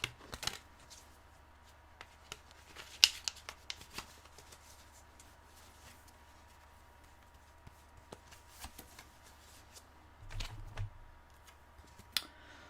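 Tarot cards shuffled and drawn up close, with quiet riffling, soft flicks and snaps of card stock, and a brief louder shuffle near the end.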